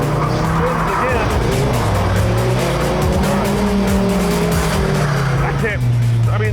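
A supercar spins out again and again, its tires squealing and scrubbing loudly over a continuous engine drone. The squeals sweep up and down close by.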